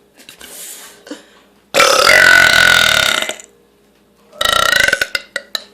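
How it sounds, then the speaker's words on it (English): Two loud, long beer burps stand alone, the first rumbling for over a second and the second ending in a few short choppy gulps, with near silence before and between them. "Oh, my beer burps are just immaculate."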